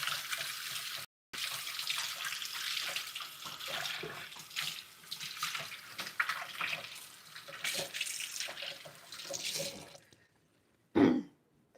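Food is rinsed under a running kitchen tap, the water splashing in a steady stream for several seconds before shutting off, followed by a brief cough or throat clear.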